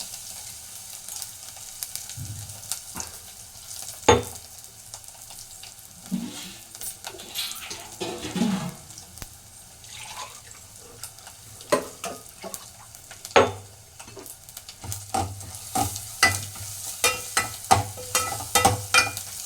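Dried chillies, garlic, black pepper and cumin frying in oil, giving a soft crackling sizzle broken by repeated clattering stirs and scrapes against the pan.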